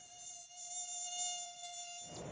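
A mosquito hums close by with a thin, steady high-pitched whine that holds for about two seconds before a rustling noise cuts in.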